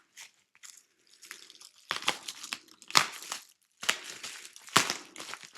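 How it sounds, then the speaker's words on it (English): Packing tape and bubble wrap being pulled off a mailed package of comic books, bursts of crinkling, ripping and crunching in uneven clusters, close and fairly loud with brief pauses between. "Hope you can hear all this tape and all this bubble wrap"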